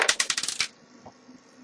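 A quick burst of sharp rattling clicks as covers are ripped off a mortice lock, close and fairly loud for about half a second before near silence.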